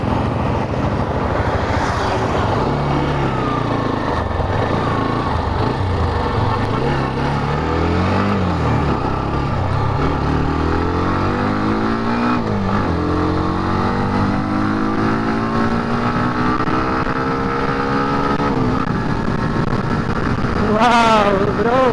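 A new Hero Xtreme 125R motorcycle being ridden, its engine rising and falling in pitch through several gear changes, loud and close, with wind noise and a voice speaking over the ride.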